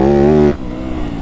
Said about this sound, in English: Third gear on this bike just chugs out of these corners